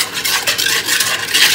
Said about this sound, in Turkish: Bunu 3 yemek kaşığı şekerle karıştıracağım şimdi.